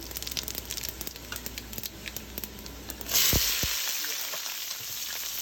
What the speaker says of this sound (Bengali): কড়াইতে দিয়ে দিচ্ছি কিছুটা রান্নার তেল এর মধ্যে দিয়ে দিচ্ছি কয়েকটা শুকনা মরিচ এখানে দিয়ে দিচ্ছি কিছু আস্ত জিরা